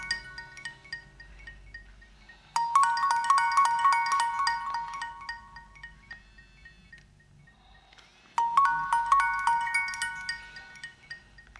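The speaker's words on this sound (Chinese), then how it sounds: "你总算愿意接电话啊！" A phone ringtone plays as a bright melodic electronic tune in two bursts of several seconds each, separated by a quieter pause, clear and fairly loud over faint background sound; no speech.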